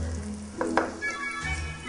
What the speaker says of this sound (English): So we let the onions cook a little bit until they become transparent.